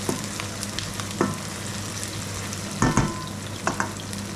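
Onions fry in a pan until they turn brown, a continuous close sizzle broken by a few sharp scraping stirs of the utensil, with no voices.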